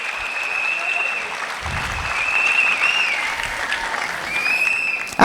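Audience in a business seminar hall clapping, a sustained, moderately loud patter of many hands with a faint tonal hum running underneath.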